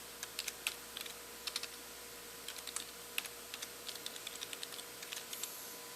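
A file name is typed on a computer keyboard in a lab, producing quiet, close clicks in irregular bursts of keystrokes with brief pauses between them.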